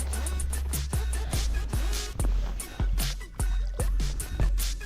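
A hand dips and swishes through cool lake water, giving a run of close, wet splashes and drips in an irregular rhythm over a low steady rumble, with no talking.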